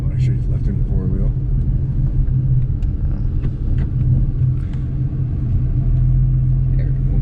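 The 1992 Chevy Blazer rumbles with a steady low engine drone while it is driven. Voices talk intermittently over the noise inside the cabin.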